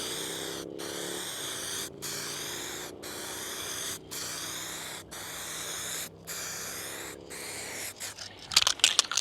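Bursts of spray from an aerosol paint can coating an A-10 RC jet wing outdoors, about eight close hissing passes roughly a second each, separated by short gaps, ending with handling noise.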